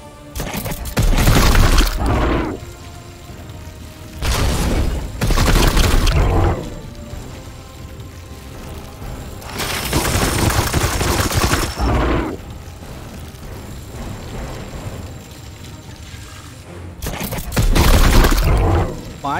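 Bursts of loud gunfire in Warhammer 40,000: Chaos Gate - Daemonhunters, several volleys separated by short pauses, with no talking.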